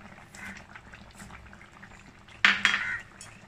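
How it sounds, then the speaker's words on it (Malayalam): A pot of Kerala-style mullet fish curry with coconut milk simmers on a medium flame, giving a steady soft bubbling close by, broken near the end by a short, louder clatter of metal utensil against the pot. "തിളച്ചതിന് ശേഷം ഞാൻ മീഡിയം ഫ്ലെയിമിലാണ് ഇപ്പോൾ ഇത് കുക്ക് ചെയ്യുന്നത്"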